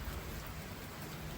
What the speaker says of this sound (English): I'm just excited to see the rain.